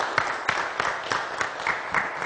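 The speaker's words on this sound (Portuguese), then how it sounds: "aplausos!" Scattered, fairly quiet applause from an audience at a formal session, with individual claps spaced in a loose rhythm across a short stretch.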